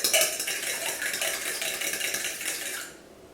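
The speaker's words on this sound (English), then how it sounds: "just scramble those bad boys beforehand. Take your fork and just mix them up." A fork whisks eggs in a bowl, a fast continuous metallic rattling and clinking held close for about three seconds before stopping abruptly, with no talking.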